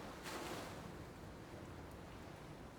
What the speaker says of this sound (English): small but well-formed waves caught my eye